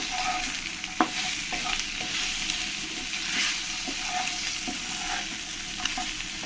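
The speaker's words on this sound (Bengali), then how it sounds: "এবার আমি এর মধ্যে এক চামচ লবণ দিয়ে দেব আর এক চামচ হলুদ দিয়ে দেবো দিয়ে ভালো করে আমি নেড়ে দেবো" Taro corms tossed with salt and turmeric are stirred in a hot frying pan, giving a continuous soft sizzle with scattered spoon scrapes and taps against the pan. No one speaks.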